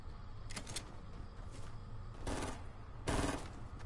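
Bursts of gunfire in the Fortnite video game, several short sharp volleys spaced over a few seconds, the last two louder and longer, over a steady low in-game background.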